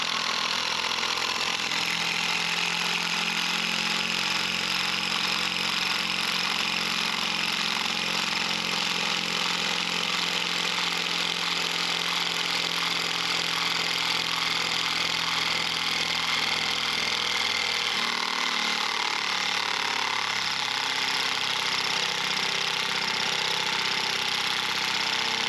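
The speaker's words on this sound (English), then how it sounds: "A lot less friction when you drill through a crack" A power drill boring through cracked bridge timber drones with a steady motor whine, loud and close, with a slight change in pitch near the end as the load shifts.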